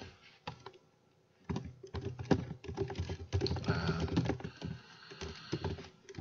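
Computer keyboard typing during online language practice, bursts of quick key clicks with short pauses between runs, close and fairly quiet, no voices.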